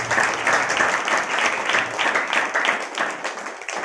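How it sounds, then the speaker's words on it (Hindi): A Hindi church congregation keeps up sustained, dense applause during a sermon. Many hands clap together in a steady, moderately loud stream that lasts for several seconds. "आप परमेश्वर के लिए ताली बजाएं।"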